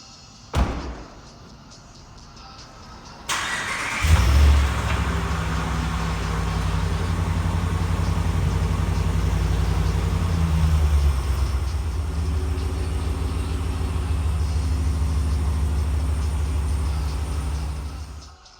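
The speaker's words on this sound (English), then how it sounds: "turn it on and start it, pop it in reverse" A Ram 1500 pickup truck engine starts with a sudden cranking burst, then settles into a steady, deep, close idle rumble that continues for the rest of the clip, following a soft thump at the beginning.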